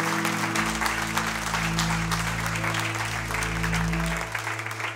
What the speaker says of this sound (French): Est-ce qu'on peut applaudir ce que Jésus fait?